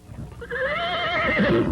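A Shire horse gives one loud, close whinny that rises out of quiet and rings with a wavering, drawn-out neigh.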